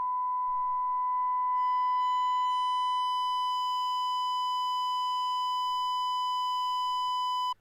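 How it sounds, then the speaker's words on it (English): A steady test tone near 1 kHz runs through the Waves BB Tubes saturation plugin, with a growing stack of bright harmonics blooming above it as drive increases, holding loud and constant for about seven seconds before cutting off. "we have a lot of harmonics added, which is a typical thing of saturation plugins"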